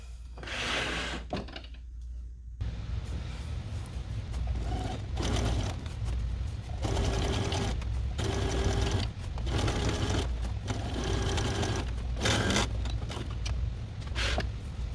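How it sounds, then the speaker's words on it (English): Sewing machine top stitching the side seams of a fleece monster costume, running in repeated bursts of steady whirring with short pauses between runs, fairly close and loud. "The side seams have been top stitched towards the center."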